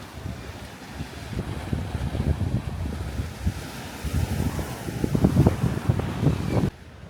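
Pacific Ocean surf rolls and washes against a rocky coastline, a continuous broad roar of breaking waves mixed with gusty wind buffeting the microphone, ending abruptly.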